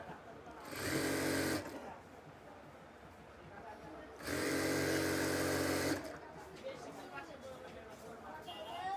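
Domestic sewing machine stitching together the seam pieces of palazzo pants, running in two loud bursts of about one and two seconds, with someone talking softly between and after them.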